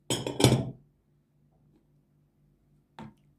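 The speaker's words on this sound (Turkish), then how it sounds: "2 bardak yoğurdumuzu ilave ediyoruz." Two glasses of yogurt go into a mixing bowl for poğaça dough, heard as a quick cluster of glassy clinks and taps against the bowl, then a pause and one more clink, close and alone.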